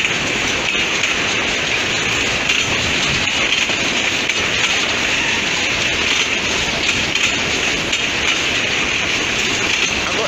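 A freight train of railroad wagons rolling past in Cornélio Procópio, Brazil, a continuous loud rumbling and hissing wheel-on-rail roar that holds steady throughout.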